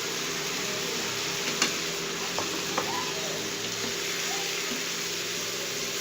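An onion-tomato gravy with gram flour fries in a pan with a steady, close sizzle, broken by a few soft clinks of stirring.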